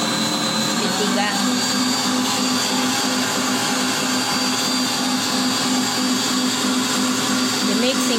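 An electric mixer kneads pizza dough at its top setting, speed 3, giving a loud, steady whirring motor drone that holds without pause from start to finish.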